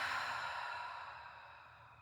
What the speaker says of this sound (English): 360, deep belly breath in and out